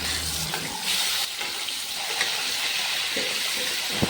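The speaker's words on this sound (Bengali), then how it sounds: "চলো আমি এক এক করে মাছটা ভেজে নিচ্ছি" Fish frying in hot oil gives a steady, close hiss of sizzling that holds evenly for about four seconds, with no talking.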